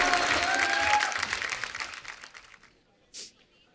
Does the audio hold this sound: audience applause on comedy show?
yes